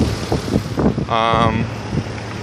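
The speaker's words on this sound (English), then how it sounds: "It's the windiest, noisiest day in existence. I'm on a very busy street and it's windy." Strong wind roars and buffets across the microphone on a busy street beside a BMW E30, with heavy low rumble throughout, muffled voices in the mix and a brief tonal whine in the middle.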